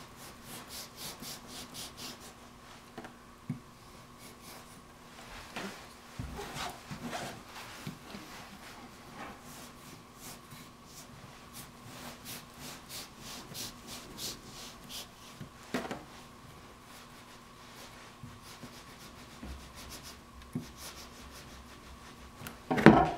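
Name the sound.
knife trimming along top of cake medallion mold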